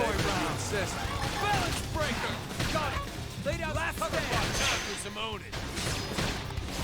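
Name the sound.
gunfire in Xenoblade Chronicles X video game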